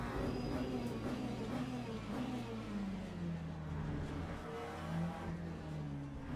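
GT3 race cars at speed at Spa in Le Mans Ultimate, including a McLaren and a Lamborghini, their engines holding a continuous high whine with shifting pitch, while a voice talks over them.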